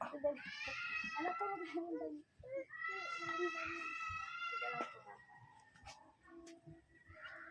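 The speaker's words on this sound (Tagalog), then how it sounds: "Kawawa man yung pusa ni Ate Maricel, oh" A cat meows repeatedly in long, drawn-out wails, fairly close, with people talking intermittently in the background.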